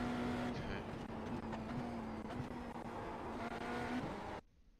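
Race car engine in the sim racing game iRacing holding a steady high pitch, with short dips at gear shifts, up close and loud before cutting off abruptly near the end.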